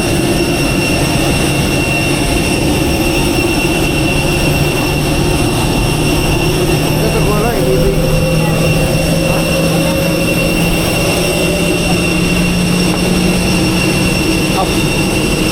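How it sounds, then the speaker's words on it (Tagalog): The jet engines of an airplane give off a loud, steady roar that fills the whole stretch without a break. "Laki ng aeroplano."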